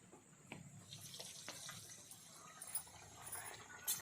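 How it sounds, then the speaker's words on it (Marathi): Patted vada dough, shaped on banana leaves, goes into hot oil for frying. A quiet, crackly sizzle follows, with small pops and bubbling scattered through it. "आता आम्ही त्याच्यात तेलात सोडूया."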